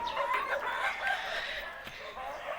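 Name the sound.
Rhode Island chickens clucking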